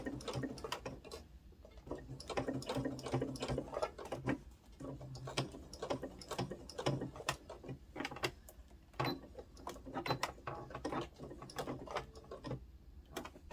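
A sewing machine stitches a rank patch onto a military uniform, running in quick bursts of rapid mechanical ticking separated by short pauses, close and clear.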